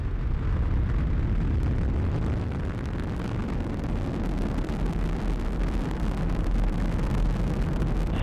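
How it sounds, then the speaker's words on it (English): A SpaceX rocket carrying a reused Dragon capsule lifts off, a steady, deep, rumbling roar that stays broad and continuous throughout, heard from a distance with some wind buffeting and no voices. "Ignition and liftoff."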